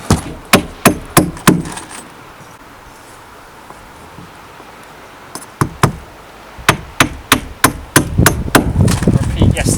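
Wooden timber beams being hammered while a post-and-beam garage is built with Polish timber. Sharp knocks come in quick runs, then pause before a faster, steady stretch of blows starts again, close and loud.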